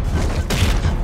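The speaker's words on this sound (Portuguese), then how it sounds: "Agora começou a sair som de tiro." Rapid gunfire in Halo: Combat Evolved on Xbox One rattles as a loud, dense burst of shots with booming low thuds, close and continuous through the short stretch.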